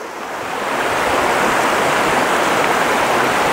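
A shallow, gentle river runs beside a campsite, producing a steady, loud broadband rush of flowing water that fades in and then holds constant, with no voices.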